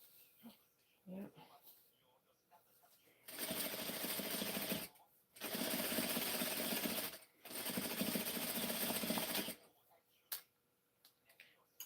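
Sewing machine stitching in short bursts while sewing a prom dress: three loud runs of rapid mechanical whirring separated by brief pauses, with quieter handling sounds and faint talk before and after.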